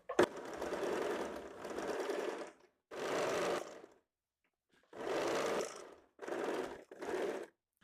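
A sewing machine stitches the sleeve of a 32-size high-neck double-layered blouse in several short bursts separated by silent gaps, close and clear.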